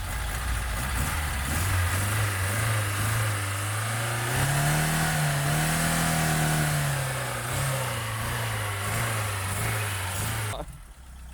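An old, worn car's engine revs up and holds a high, rising whine before easing back down, loud and close, then cuts off abruptly near the end.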